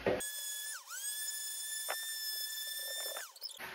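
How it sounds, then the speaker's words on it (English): An orbital sander working on a plastic helmet, giving a steady high-pitched motor whine that dips briefly and recovers, with a short scraping contact in the middle, close and clear. "specifically on the back I'm going to use the orbital sander"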